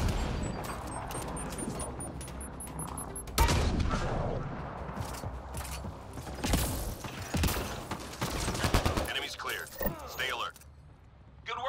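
Gunfire in Mass Effect Andromeda multiplayer combat, bursts of rapid shots and sharp bangs mixed with mechanical clanks and rattles, loud and irregular, with voices calling out during the fight.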